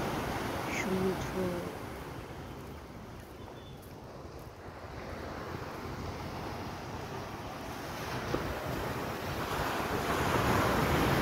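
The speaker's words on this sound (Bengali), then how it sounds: "আর সমুদ্র," Sea waves roll onto the beach at Digha in a continuous, moderately loud wash, mixed with wind buffeting the microphone and swelling slightly louder toward the end.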